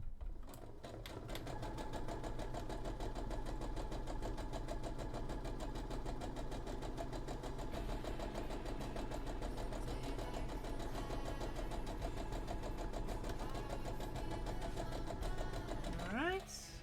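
A sewing machine runs steadily while stitching a cosplay seam, its fast even motor drone loud and close throughout, ending with a brief clatter.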